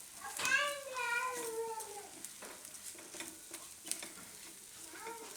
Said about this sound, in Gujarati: અને આ બધું આપણે મિક્સ કરી દઈશું.